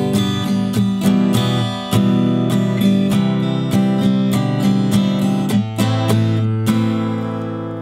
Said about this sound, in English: I like to throw in a dead stroke, an upstroke, and then two downstrokes.